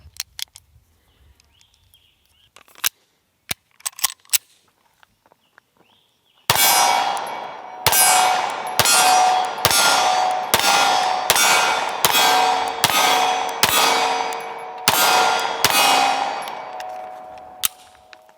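Canik Mete MC9 Prime pistol fired at an outdoor range: after a few scattered faint clicks and handling knocks, about a dozen loud, sharp shots ring out in a fast, fairly steady string, each with a ringing tail, with no talking.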